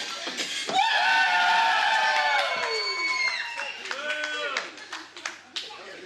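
A wrestling arena crowd claps and cheers loudly, with high shrill screams rising over the din, while a commentator talks throughout.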